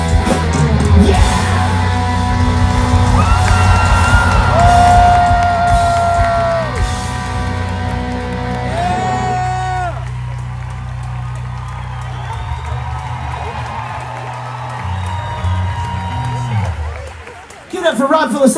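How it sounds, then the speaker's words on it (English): A concert crowd at an outdoor Epcot show cheers, whoops and applauds for a pop-punk band as the song's extended ending rings out, sustained loud crowd noise under ringing music that drops away near the end. "Really milking you for the applause"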